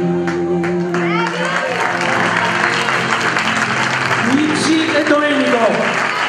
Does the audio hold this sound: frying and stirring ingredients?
no